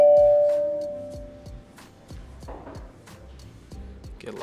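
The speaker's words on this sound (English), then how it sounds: "Doorbell plays twice." A Homey smart home doorbell chime rings out clearly at the start, then gives way to a run of soft, evenly spaced ticking pulses and faint background noise.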